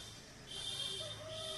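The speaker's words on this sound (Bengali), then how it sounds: "এইটা একটা মুরগি, তারপরে দুইটা মুরগি।" Chickens cluck faintly in a farmyard, a few short soft calls over a quiet background hum.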